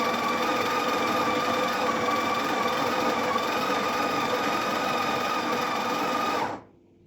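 A Breville Barista Express BES870SLQ espresso machine grinds a second coffee dose into its portafilter, a loud, steady, close motor whine lasting over six seconds before winding down to silence.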